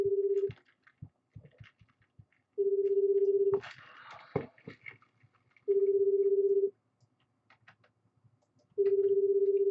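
Telephone ring-back tone on an outgoing call to a scam number, four long even tone bursts separated by silent gaps, with faint clicks and a short rustle between rings.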